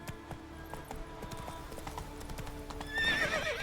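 Horse named Roach in The Witcher 3 video game, with rhythmic hoof clip-clops of galloping hooves and a whinny near the end, moderately close.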